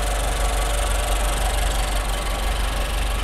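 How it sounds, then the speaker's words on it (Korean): A Nissan Juke 1.6 SV idles steadily with the engine bay open, a close, constant low hum and fine mechanical clatter holding an even level for the whole stretch, with no talking. "엔진 소리 일정합니다"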